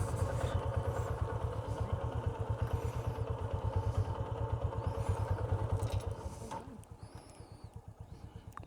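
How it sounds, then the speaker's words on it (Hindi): A motorcycle engine putters loud and close with a rapid, uneven chugging idle that falters near the end, as if it is struggling to keep running after trouble starting. A brief faint voice can be heard. "बाइक ही स्टार्ट नहीं हो रही अब तो, नया पंगा।"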